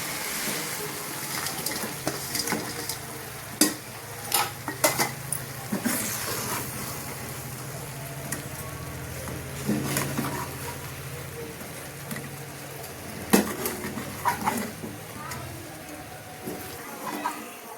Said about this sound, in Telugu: ఇప్పుడు ఈ మంచూరియా బాల్స్ ఇందులోకి వేసుకుని ఆ రసం అంతా వీటికి పట్టే రకంగా కలిపేసుకోవాలండి